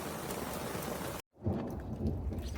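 Heavy rainstorm pounding over an off-grid RV, a dense roar of rain that briefly cuts out and then resumes with low thunderous rumbling.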